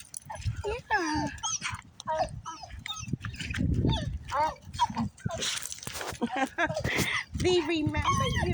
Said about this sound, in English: there's puppies in the doggy park